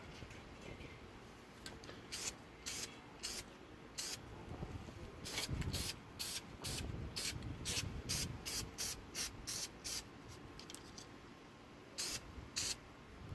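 Short bursts of spray paint being misted onto a GI Joe action figure in light first coats, a dozen or more quick hissing puffs in an uneven rhythm, close and fairly loud.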